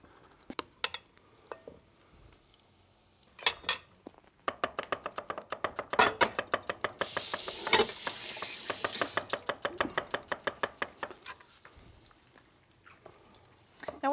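Beignet batter fries in a pot of hot oil, a rapid string of bubbling crackles and pops building into a dense sizzle, with scattered clinks of utensils before and after.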